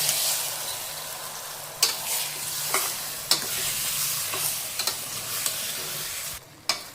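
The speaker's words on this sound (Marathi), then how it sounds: "हे आता सर्व मटण मिक्स करून घेऊ तेलामध्ये।" Turmeric- and salt-coated mutton pieces are stirred in hot oil, a steady sizzle and hiss of frying broken by sharp scrapes and clacks of a spoon against the pan at irregular intervals.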